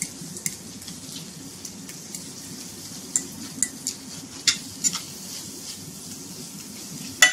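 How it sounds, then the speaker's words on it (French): Potato and mushroom emulsion stirred in a pan, a soft continuous sizzle with scattered light scrapes and clinks of a utensil, close and moderate, no voices. "Et on laisse juste remuer quelques minutes."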